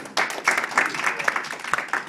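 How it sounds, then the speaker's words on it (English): An audience in a talk on conversation skills gives a round of applause, a short burst of many hands clapping close by that rises quickly and carries on steadily. "Would you please give Eric a nice round of applause?"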